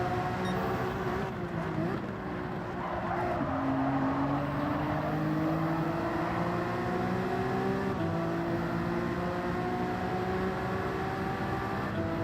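Engine note from a Honda NSX Cup race car in Gran Turismo 7 climbing and shifting through gears in a steady, moderately quiet whine, with other cars faintly in the background and no voices.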